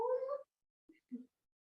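A voice imitates a cat's meow as part of a kids' yoga cat pose, two short soft mewing syllables after a louder spoken word, close and alone in a quiet room.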